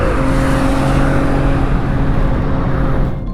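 A BMW engine of nearly 400 horsepower pulls under full-throttle acceleration in second gear, a loud, steady, rising drone heard from inside the car, with no talking.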